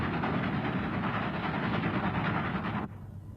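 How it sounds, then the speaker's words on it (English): The 1976 American Freedom Train speeds along rails through the San Fernando Valley, a loud, steady broadband rumble with faint rhythmic wheel clatter that continues without a break, then drops sharply in level near the end. "the American Freedom Train speeds through the San Fernando Valley towards Los Angeles"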